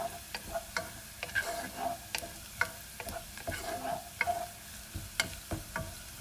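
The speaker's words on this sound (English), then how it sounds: "then we are going to be putting in our yellow onion" Quartered yellow onion frying in a pan, a soft sizzle broken by repeated sharp taps and scrapes of a utensil stirring at an uneven rhythm, close and fairly quiet.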